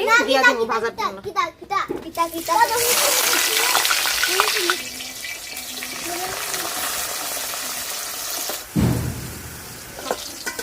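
Steamed cabbage pieces drop into hot oil and set off a loud, sustained sizzle that later fades to a quieter frying hiss. A child and an adult talk over the cooking.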